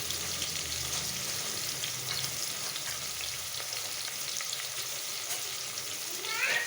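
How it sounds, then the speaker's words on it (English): Onions fry brown in about five tablespoons of hot oil for a South Indian mutton curry lunch, giving a steady, loud, close sizzle with a constant hiss and no talking. "Here I put in the onions and I'm going to fry it brown."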